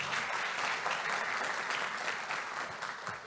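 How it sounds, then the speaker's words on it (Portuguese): An audience applauds at an energy-efficiency conference panel, a broad sustained wash of many hands clapping at an even level, fairly distant and without speech on top. "Aqui eu também peço um aplauso a você, Viviane."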